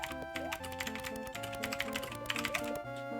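Fast, steady clicking of a computer keyboard comes from someone playing the Mario Teaches Typing game, with dense keystrokes over soft in-game music tones.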